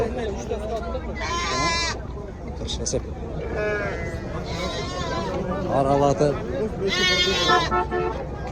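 Sheep and rams bleating at a sheep market in Jalal-Abad, several loud wavering bleats close by over a constant hubbub of people talking and bargaining.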